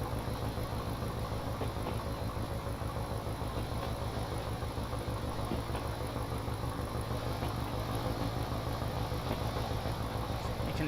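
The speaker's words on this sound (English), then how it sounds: "If we go back to the rear of the train, you can hear that engine" A Thumper diesel locomotive in a train simulator game heard from the rear of the train at full throttle, a steady low rhythmic thumping engine drone that continues evenly throughout with no talking.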